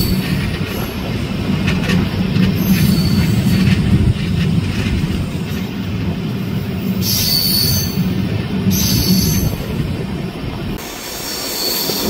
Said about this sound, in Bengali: ট্রেন ছাড়ছে।